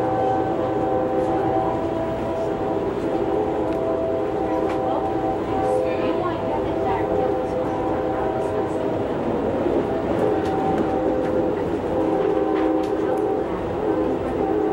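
Interior ride on Amtrak's Southwest Chief passenger train through Illinois, a continuous rumbling roll with steady tonal hum and occasional clicks from the rails, with faint speech underneath.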